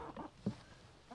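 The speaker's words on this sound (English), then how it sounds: "let the chickens out." A few soft, faint clucks from chickens, with one short louder cluck in the middle and quiet gaps between.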